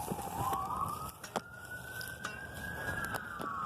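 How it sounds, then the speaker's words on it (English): An ambulance siren wails nearby in an outdoor setting, a steady rising and falling tone that sweeps up and holds, with a few sharp clicks over a faint background hiss. "the ambulance passed by and then like turned the siren on"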